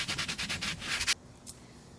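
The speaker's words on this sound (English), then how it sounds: "So I went and got an actual sanding block to speed up this process." A sanding block rubs rhythmically across a plaster belly cast, about seven quick scraping strokes close to the microphone, then it stops, leaving quiet with one faint brush afterward.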